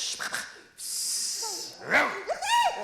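A dog gives a few short whining barks and breathy yelps, close and brief, over a quiet background.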